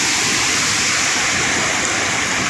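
Floodwater pours over a road at a submerged culvert crossing in Keonjhar, Odisha, running about four feet deep; a loud, steady broadband rush of flowing water fills the whole stretch without a break and with no voices.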